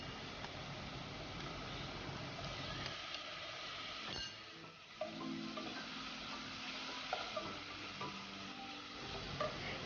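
Pasta sauce cooking on low flame in a pan, with a continuous soft sizzle and occasional stirring scrapes, steady and fairly quiet throughout.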